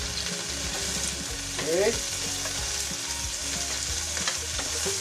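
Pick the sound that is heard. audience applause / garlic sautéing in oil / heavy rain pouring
garlic sautéing in oil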